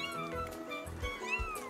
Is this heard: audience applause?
no